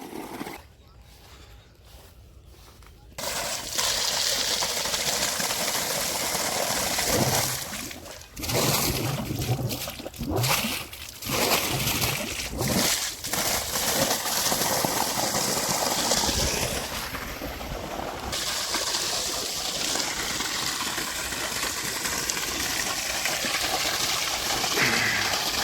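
Irrigation water flows through a farm field channel after a valve is closed, a steady rushing gush outdoors that carries on throughout, with a few brief knocks and clatters partway through and no talk.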